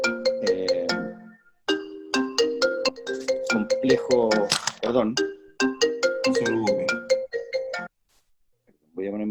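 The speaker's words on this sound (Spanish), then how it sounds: "Voy a poner mi teléfono en modo avión porque parece que está entrando una llamada." An incoming call's phone ringtone plays a repeating melodic chime pattern for several seconds, fairly close, with a person speaking briefly over it before it cuts off.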